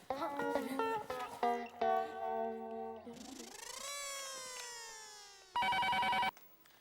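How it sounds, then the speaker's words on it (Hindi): An electronic landline telephone ringtone plays a tonal melody, followed by a long gliding tone and a short, louder buzzing ring. "टप्पू, जेठा को फोन लगा।"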